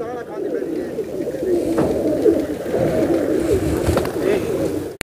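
Several pigeons coo in overlapping low, throaty calls, continuous and fairly close, with a soft rustle near the end.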